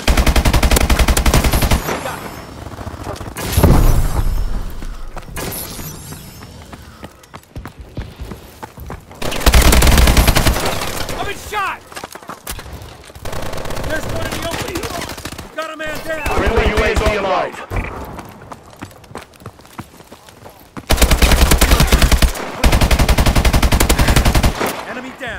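Call of Duty: Advanced Warfare multiplayer match with heavy machine gun fire, long rapid bursts alternating with short pauses and thuds, loud and close, over scattered in-game radio voices.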